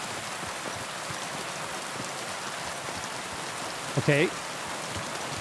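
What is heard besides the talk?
heavy rain in the video game Kingdom Come: Deliverance 2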